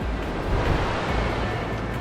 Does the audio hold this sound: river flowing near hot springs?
yes